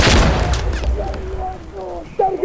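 A grenade goes off in the tactical shooter Insurgency Sandstorm: a loud, close boom opens and then rumbles away, followed by quieter tonal game sounds and a brief second thump near the end.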